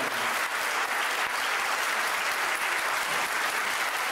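An audience at a 2002 event honouring Saint Kosmas of Aetolia applauds a government minister, a dense, steady clapping that is fairly loud and continuous throughout with no voices.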